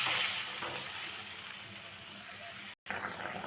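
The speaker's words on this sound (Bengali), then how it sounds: "এখন দিয়ে দিলাম জল। দিয়ে মাছটাকে একটু ফুটতে দেব।" Water splashes into spice paste frying in oil for a tengra fish curry, setting off a loud, close gushing hiss that slowly eases into a quieter steady bubbling sizzle.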